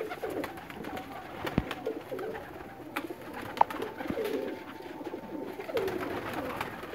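Sialkoti pigeons heard outdoors as a champion flyer returns home, with soft cooing and bird calls over steady ambient noise and a few brief sharp knocks.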